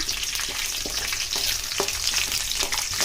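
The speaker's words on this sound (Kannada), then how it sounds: "ಹಾಗೆ ಸ್ವಲ್ಪ ಶೇಂಗಾ ಬೀಜನ ಹಾಕ್ಕೊತಾ ಇದ್ದೀನಿ. ಹಾಕ್ಕೊಂಡ್ಮೇಲೆ ಒಂದು ಸ್ವಲ್ಪ ಫ್ರೈ ಆಗಬೇಕು." Peanuts fry in oil in a pan on a medium gas flame, a constant crackling sizzle broken by occasional scraping stirs of the spoon.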